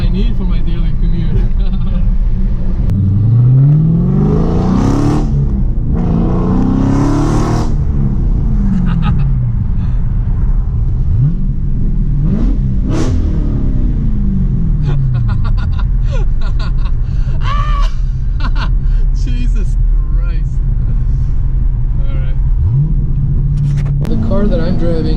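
Close, loud engine rumble from a 2015 Dodge Challenger R/T Scat Pack Shaker with a 6.4 liter 485 horsepower engine, swelling through several rising revs and shifts before easing into a steady, throaty cruise.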